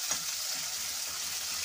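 Tomatoes and slit green chillies fry with potatoes in a pan, giving a steady, close sizzling hiss with a faint stir at the start and no talk.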